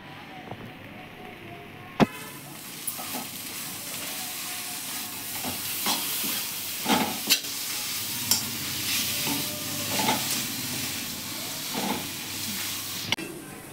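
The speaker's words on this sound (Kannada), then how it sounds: "ಅರ್ಧ ಟೊಮೊಟೊ ಫ್ರೈ ಮಾಡೋದಕ್ಕೆ ಹಾಕೋತೀನಿ" Steady sizzling of tomatoes frying in oil in a pan, with occasional stirring clicks and scrapes over the hiss.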